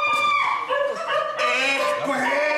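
A dog barks and yips in short bursts amid a lively stage setting at a Bavarian folk theater New Year's party play, with voices talking around it and a moderately loud, close sound.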